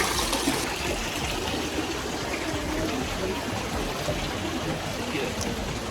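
Steady rush of deep, clear spring water flowing at a campsite, a continuous close broadband wash without pauses.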